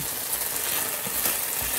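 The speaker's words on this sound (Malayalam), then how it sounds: "നമ്മളുടെ ജിഞ്ചർ ഗാർലിക് നമുക്കിടാം. എന്നിട്ട് നന്നായിട്ടൊന്ന് സോട്ടേ ചെയ്യാം." Ginger and garlic sautéing in a hot pan give a steady, close sizzle and crackle of frying, with faint stirring scrapes and no talk.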